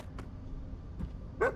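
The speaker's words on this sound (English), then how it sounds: "It's just an ordinary dog." An ordinary dog in a science-fiction film gives a single short bark near the end, after a couple of faint yips, over a low, quiet background rumble.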